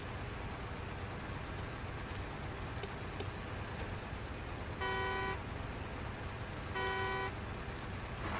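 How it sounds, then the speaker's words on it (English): Truck horn in the SnowRunner video game, two short steady honks a couple of seconds apart over a constant engine and rumbling background, sounding much like a car horn. "Sounds a lot like a car horn."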